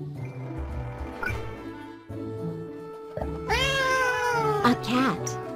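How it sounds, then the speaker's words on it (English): A domestic cat gives a drawn-out, rising and falling meow near the end, close and clear, with a shorter mew following, over continuous background music. "A cat."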